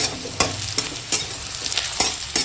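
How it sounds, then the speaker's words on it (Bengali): Chopped onion and green chilli fry in oil with five-spice and bay leaf, the sizzle broken by sharp, regular scrapes of a spatula stirring the pan, close and without speech. "আর দিয়ে দেবো পেঁয়াজ আর কাঁচা লঙ্কা কুচো। পেঁয়াজটা একটু ভেজে নেবো।"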